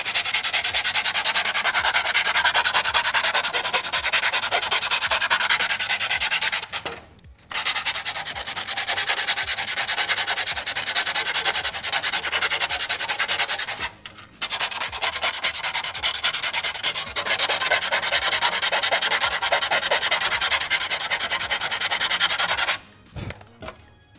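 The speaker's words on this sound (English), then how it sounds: "sandpaper" Sandpaper rubbed by hand over a prop TIE pilot chest box part, a loud, steady, close scraping that runs continuously with three brief pauses.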